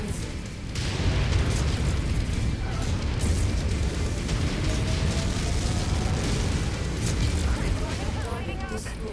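A missile explodes in the video game MechWarrior 5: Mercenaries, a heavy rumbling blast that blends into a dense, continuous wash of battle noise and mechanical clatter, with radio voices talking over it.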